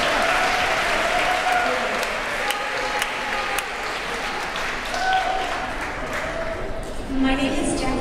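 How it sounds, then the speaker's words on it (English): Audience applause for performers at a museum event, a loud, dense wash of clapping with crowd murmur and some voices mixed in, sustained throughout. "can we have another round of applause for our performers?"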